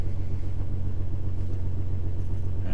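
A 1966 Plymouth Valiant engine idles steadily nearby, a low, even rumble with a faint rhythmic pulse and no voices.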